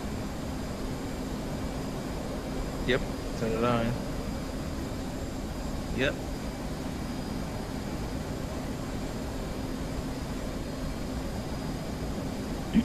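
A steady aircraft engine roar fills a DCS flight simulator cockpit over the Persian Gulf, a constant broadband drone held throughout while a couple of brief voices speak over the radio.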